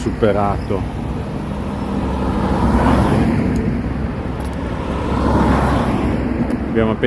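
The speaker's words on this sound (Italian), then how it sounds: "Macchine. Siamo tornati nella civiltà" Cars pass on a road near Molina Seca, Spain, as a broad roar that swells past around the middle of the clip and builds again near the end. A voice speaks briefly at the start and at the close.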